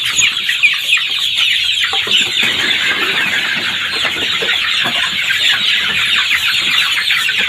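Chickens from a flock being treated for respiratory disease (snot, CRD) cluck loudly and continuously at close range, with many overlapping calls and no talking.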